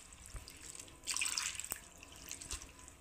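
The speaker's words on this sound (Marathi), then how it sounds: "व्यवस्थित असा धुवून काढायचा साबुदाणा।" Sago pearls are rinsed and swirled in water, giving a soft, brief splashing and swishing burst in the middle, with faint drips and trickles before and after.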